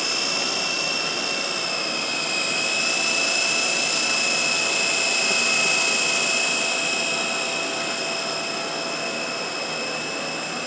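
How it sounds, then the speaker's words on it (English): A small toy helicopter flies close by with a steady high-pitched whine and buzz that swells a little midway, holding at a fairly even level throughout with no talking. "That's a little toy helicopter."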